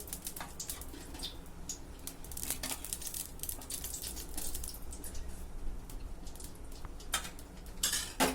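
Large spoons of oil added to a pan on a lit stove for beef biryani, with metallic spoon clinks and scrapes against cookware over a low steady hiss, close and moderately quiet, with no talking.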